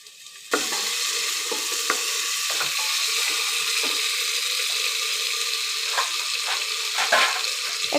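Cumin paste frying in a pan, starting with a sudden loud sizzle as it hits the hot oil and continuing as a steady hiss with periodic stirring knocks.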